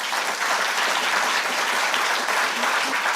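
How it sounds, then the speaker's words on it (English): A conference audience gives speakers a round of applause, dense and even clapping from many people that sustains at a steady level throughout. "Let's have another round of applause for them,"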